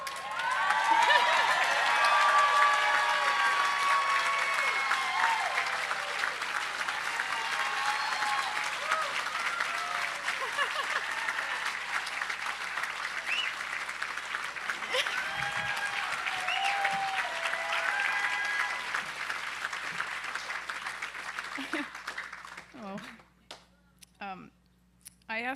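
Long, dense audience applause at an evening charity auction, with cheering and murmuring voices mixed in, sustained loudly for over twenty seconds before thinning to a few scattered claps near the end.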